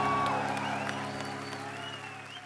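Studio audience applause on a Hindi comedy talk show set, a broad wash of clapping under steady music tones, fairly loud at first and easing slightly over the moment.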